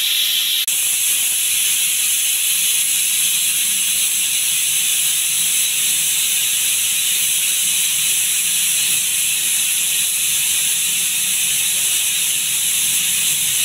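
A pressure cooker cooking dal on a stove, a steady loud hissing whistle of escaping steam that holds on without a break, close by and alone.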